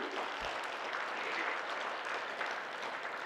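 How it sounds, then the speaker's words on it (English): An audience at an inaugural session in a large hall claps, a steady, even wash of many hands at moderate loudness, continuous and without talk. "All those who are happy to be here will clap in the air"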